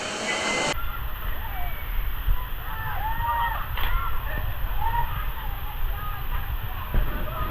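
The Kalmandavi waterfall roars as a continuous broadband rush of falling water nearby, with people talking over it and occasional shifts as the recording moves.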